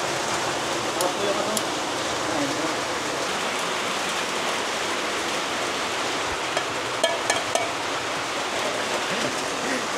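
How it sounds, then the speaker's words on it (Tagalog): Rain falls steadily on a riverside campsite at Calabasa Picnic River in Gabaldon, Aurora, a dense, even hiss with a few sharper drips, and no voices. "Umuulan eh."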